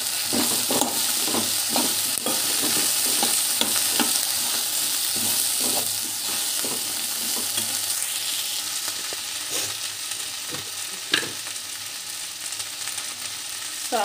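Chili powder frying in a pan, a constant close sizzle under a quick run of rhythmic stirring scrapes that slows and thins out toward the end.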